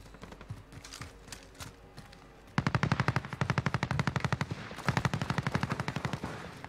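An AK47 fires in Warzone in rapid sustained bursts, loud and close: first scattered shots, then long strings of closely spaced automatic rounds with only brief gaps between them.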